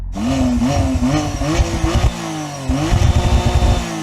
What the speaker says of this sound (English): Put it into track mode, rev it up.